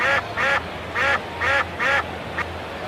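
A duck quacking sound effect plays during a baseball game broadcast: about five loud, nasal quacks in a quick, uneven series, up close and alone.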